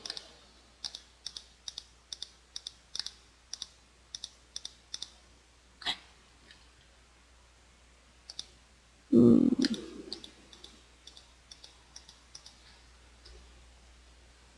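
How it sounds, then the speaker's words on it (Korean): A computer mouse clicks repeatedly as a polygonal lasso tool traces selection points in image-editing software, giving a steady run of crisp, close clicks with a brief louder bump partway through. "다각형 올가미 툴은 각각 지역마다 이렇게 클릭 하시면서 따주시면 되는"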